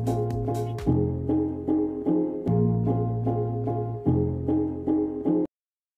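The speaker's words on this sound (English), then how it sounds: "Now let's check out this 2-bar loop." A two-bar music sample loop on the Tracklib sampling service plays about three times, with punchy rhythmic hits and sustained tones repeating steadily before it cuts off abruptly.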